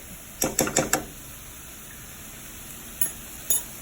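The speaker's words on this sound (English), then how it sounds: "we're going to stir that around just a little bit while longer" Crab meat stirred in a hot pan for egg roll filling: a quick burst of four or five scraping, clinking strokes over a faint sizzle, then two more isolated scrapes after a pause.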